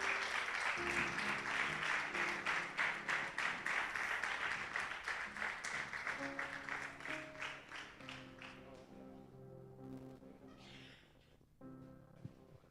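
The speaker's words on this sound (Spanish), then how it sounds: "damos un fuerte aplauso a la palabra del Señor." A church congregation at an evangelical service gives sustained applause, a dense wash of many hands that slowly fades over about twelve seconds, with no one speaking over it.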